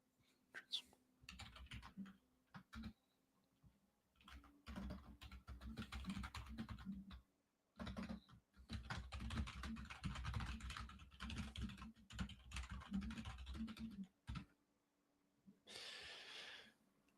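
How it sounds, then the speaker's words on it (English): Close-up typing on a computer keyboard comes in rapid clattering bursts separated by short silent pauses, with soft breathing audible between runs. "I'm typing something up."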